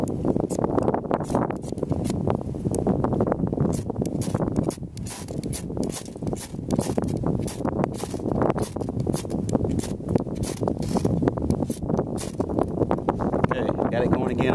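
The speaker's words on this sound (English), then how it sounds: "It's really windy." Steady blustery wind roars against the microphone throughout, with a person talking over the gusts.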